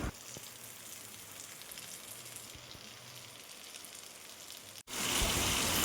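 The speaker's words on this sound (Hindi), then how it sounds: "बारिश बहुत अच्छी आ रही थी" Steady rain hisses and patters on a surface, then suddenly swells louder and closer near the end.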